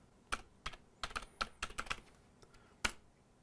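A command typed on a computer keyboard in a Linux terminal: a quick irregular run of about a dozen crisp key clicks, close and clear with no voices.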